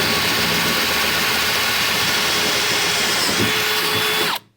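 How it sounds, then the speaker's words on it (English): A power drill boring holes into the metal door of a restored Tin Grille Dodge truck, whining steadily and loudly at close range before cutting off abruptly at the end. "So I'm just going to drill it real fast."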